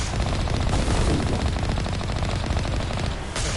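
Gunfire from the video game Mass Effect Legendary Edition, rapid automatic bursts running continuously and loud, with dense overlapping shots and no talk.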